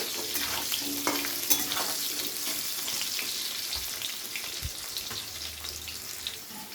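Potatoes lightly frying in oil for a winter vegetable and prawn curry, with a continuous close hiss of sizzling oil and occasional soft stirring knocks throughout.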